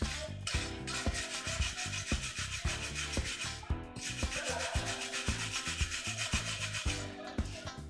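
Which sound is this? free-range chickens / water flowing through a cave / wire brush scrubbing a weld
wire brush scrubbing a weld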